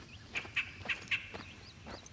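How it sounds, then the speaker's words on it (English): Several short, nasal bird calls in a hunting video game, four quick clustered calls then fainter ones over a soft ambient background, no speech. "That's a bird."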